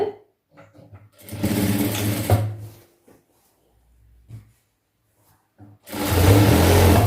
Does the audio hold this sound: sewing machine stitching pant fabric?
yes